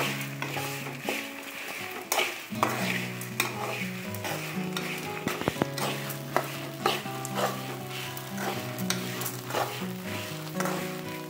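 Pulihora powder ingredients and salt fry dry in a pan while being stirred, a close, continuous sizzle layered with steady scraping strokes of a spatula against the pan, with music playing underneath.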